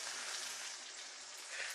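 Breaded pork chops sizzling in a frying pan, a steady hiss that carries close and loud through the whole stretch without any talking over it.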